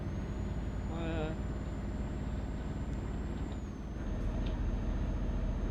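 Truck engine in Euro Truck Simulator 2 droning steadily with a brief gear-change dip partway through, loud and continuous, with a faint tonal whine above and a short voice-like blip near the start.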